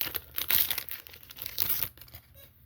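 Foil wrapper of a Wildcard Allumination 2021 All Rookie football card pack torn open up close, crinkling and ripping in short bursts before quieting at the end.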